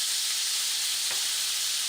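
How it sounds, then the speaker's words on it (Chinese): White wine poured into a pan of frying scallops with butter and minced garlic gives a loud, continuous hissing sizzle, with a short sharper burst midway. "现在把白葡萄酒淋进去"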